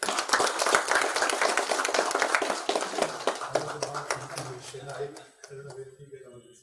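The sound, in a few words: audience applause welcoming a speaker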